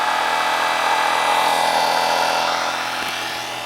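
A generator test rig motor under load is pushed to higher RPM, giving a loud continuous whirring drone with a strong tonal whine that stays steady before easing slightly at the end, with no voices.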